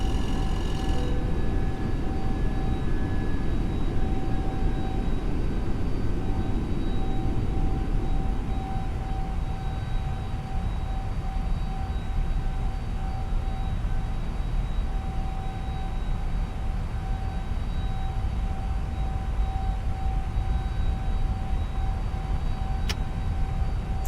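Steady, loud roar of an Airbus A321neo's engines in climb in a flight simulator, a broad continuous rumble with a faint high whine, unbroken for the whole stretch.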